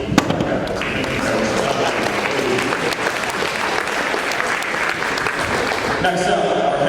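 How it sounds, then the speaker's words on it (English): Steady, loud applause fills a room at a high school athletic signing ceremony, sustained for several seconds with a brief shift near the end, clapping from a gathered audience of families and students. "One more round of applause"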